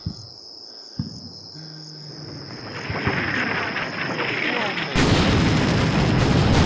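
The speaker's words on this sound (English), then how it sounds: "That barrage is already going, so let's get one on this area." An artillery barrage in the video game Combat Mission: Shock Force 2 sounds as dull thumps over a constant chirping of crickets. The rumble builds into a dense, loud roar of blasts toward the end.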